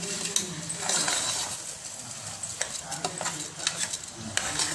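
Masala-coated rice in a pressure cooker is stirred steadily with a metal spoon, giving scraping clinks over a soft background sizzle, heard close up.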